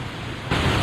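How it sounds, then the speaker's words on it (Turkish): Excess thermal water drains from a channel with a steady, close rushing hiss that suddenly swells louder halfway through. "Fazla su buradan yine tahliye ediliyor."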